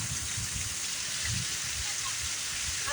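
Heavy thunderstorm rain pours in a steady, dense roar close by, with no break across the whole stretch, and low rumbles swelling beneath it now and then.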